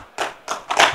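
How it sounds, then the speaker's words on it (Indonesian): Audience clapping during a political speech on cooperatives at a Kopdes Merah Putih event, arriving in three close, fairly loud bursts of applause with no talk over them. "yang paling keras tepuk tangan kawan-kawan PDIP"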